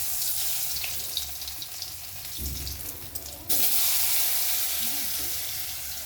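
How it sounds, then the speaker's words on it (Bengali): Pointed gourd (potol) frying in a pan, giving a steady broadband sizzle throughout that jumps louder partway through, with no talking. "প্রথমে পটলটাকে আমি ভেজে নেব।"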